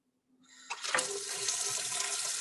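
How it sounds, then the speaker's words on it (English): A lab water supply is turned on for filtration during aspirin synthesis, a brief click followed by a rush of running water from a tap that swells and then flows steadily, fairly quiet and with no talking. "So when you filter it, you're gonna turn on the water supply."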